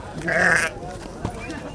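At a busy livestock market in Sulaymaniyah before Eid al-Adha, a sheep gives one short, close bleat near the start, with people talking and crowd noise continuing around it.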